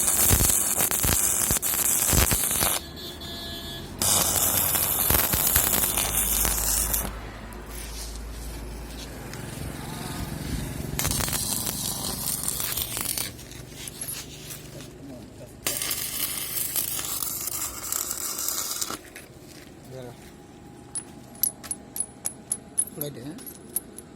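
Arc welding with a welding rod gives repeated bursts of harsh, crackling buzz separated by short quiet gaps, with scattered clicks and faint background hum between the welds.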